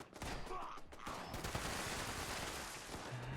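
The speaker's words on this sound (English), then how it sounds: "Great, all the turrets are shooting me now." Automated turrets in the game Fallout 76 fire at the player in a dense, continuous fusillade of overlapping gunshots, fairly faint and unbroken for the whole stretch.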